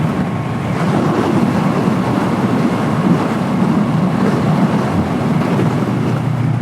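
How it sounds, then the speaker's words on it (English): Strong wind buffets a rider on an Eclipse Hunter 350 motorcycle out on a Texas road, a loud, constant roaring rush of air over the helmet with no letup. "Use a little break from the wind, man. It's beating me up today."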